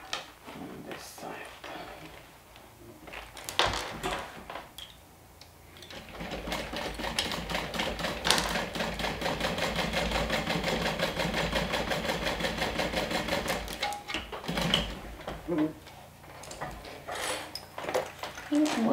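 A home sewing machine whirs steadily while top stitching a lined bag, running in bursts with a long continuous stretch in the middle, with someone talking in the gaps and handling sounds around it.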